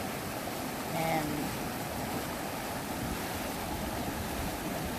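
A fast, deep mountain stream on a Colorado trail near South Fork and Pagosa Springs, a steady broadband rush of water close by, with a faint voice briefly heard early on.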